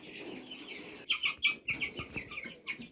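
Soft, high-pitched peeping from chicks, a string of short chirps with a few louder ones close by, over a low background hum.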